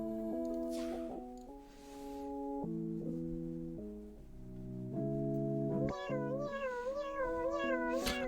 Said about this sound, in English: Honestly, I like that cat sound the most out of anything in the song.